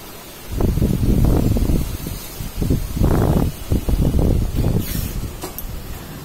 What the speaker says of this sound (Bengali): ও নারকেল গাছ থেকে কি সুন্দর হাওয়া